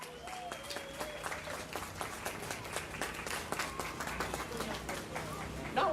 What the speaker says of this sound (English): In his memory, a round of applause.